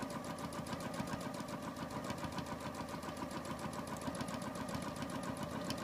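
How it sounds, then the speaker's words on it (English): A regular domestic sewing machine runs steadily during free motion quilting, its needle mechanism giving a fast, even, rhythmic whir and chatter at moderate loudness, heard alone without talk. "You can do some beautiful quilting on your regular sewing machine."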